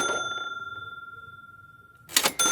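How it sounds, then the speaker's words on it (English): A child's toy cash register gives a bright ding that rings out and slowly fades, then clatters with a quick burst of mechanical clicks near the end, close and clear with no talking. "But Big Brother Sam was playing with his toy cash register."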